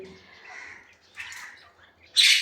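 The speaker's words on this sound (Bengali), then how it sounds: "উপরেও আছে 5টা আমাদের কয়েল পাখি" Quail kept on a rooftop give a few soft, brief chirps and twitters against a quiet background, ending in a sudden louder burst of chirping.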